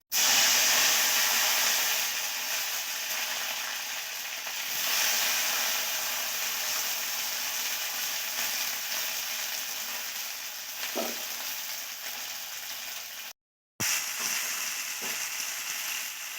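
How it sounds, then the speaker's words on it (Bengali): Steady, loud sizzling of potato and cauliflower frying together in hot oil, a continuous crackling hiss with a brief cut of silence near the end. "আলু আর ফুলকপি দুটোকে একসঙ্গে ভালো করে ভেজে নিচ্ছি"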